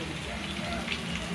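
Light rain falls steadily outdoors, a soft, even hiss of drops pattering on surfaces, fairly quiet with faint background voices underneath.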